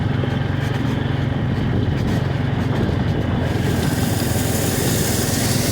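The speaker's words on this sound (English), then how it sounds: "I can actually feel the Honda slowing down when it hits that old beach sand." A Honda jet ski engine drones loud and close as it ploughs through beach sand during a drag race, a continuous high-pitched buzzing roar with a steady rhythmic pulse throughout.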